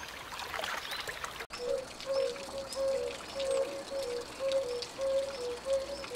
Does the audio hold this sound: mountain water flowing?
yes